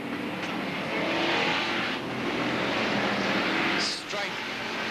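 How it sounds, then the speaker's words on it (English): Crowd of 27 stock cars roaring around an oval in the Hot Stocks final, a dense, continuous wash of engine noise that swells and dips as cars pass, with a commentator talking over it. "Green goes down, 27 cars on track for the Hot Stocks final."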